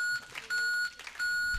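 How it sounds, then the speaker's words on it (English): Answering machine beeps on a television talk show: three short, clear electronic tones evenly spaced with brief gaps, heard alone without voices. "Leave a message after the beep."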